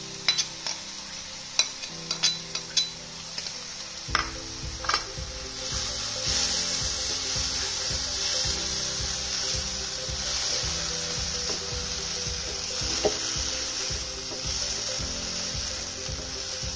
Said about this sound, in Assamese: এতিয়া মই ইয়াত মেৰিনেট কৰা মাছৰুমখিনি দি দিলোঁ